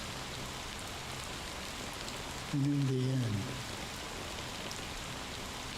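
Steady rain falls in Honkai: Star Rail, a constant soft wash throughout, with a brief spoken line over it midway.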